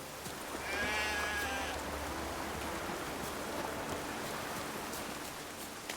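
Steady, hissing rain pours down continuously at sea in the video game The Witcher 3, with a brief bleat-like call near the start and no talking.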